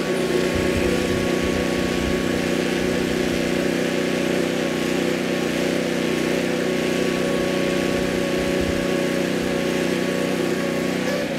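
An SWC 100 portable sidewall cutter runs at a steady motor drone with a constant tonal hum and low rumble, close and continuous throughout with no pauses.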